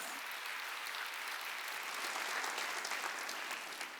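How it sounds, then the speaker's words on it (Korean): A church congregation claps together at a Wednesday worship service, producing a dense, steady wash of applause that fills the room evenly for about four seconds. "박수치대."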